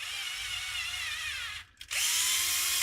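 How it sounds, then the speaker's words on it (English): A power drill runs a thread tap into a screw hole, whining steadily and loudly, cutting out briefly under resistance, then starting up again at full speed, with no talk. "We're just going to run a tap here."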